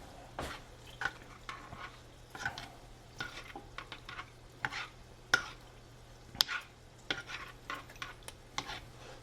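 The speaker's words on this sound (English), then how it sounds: "We'll stir this up a little bit and get this going." A pot of food stirred by hand at home on a day of smoking brisket and canning fresh peaches: scattered scraping and clinking strokes of a utensil against the pot in an irregular rhythm, fairly quiet, with a low steady hum behind it and no talking.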